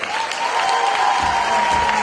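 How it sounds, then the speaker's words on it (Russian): Audience applause for a third-place team at a KVN comedy contest, steady clapping from a crowd under a sustained tone, loud and continuous through the short moment. "Аплодисменты."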